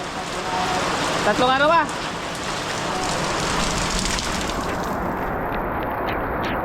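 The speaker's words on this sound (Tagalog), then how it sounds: "Ang lakas ang ulan." Heavy rain pours down in a steady, dense hiss throughout, with a person speaking briefly and a short whistle-like call rising over the downpour early on.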